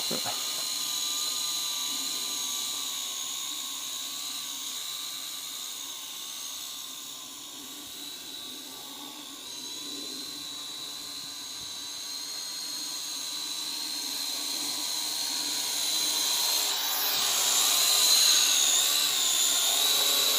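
A Syma X8SW quadcopter drone carrying a gimbal and camera hovers and flies with a continuous high-pitched motor whine that holds steady, then swells slightly toward the end, heard from a moderate distance outdoors.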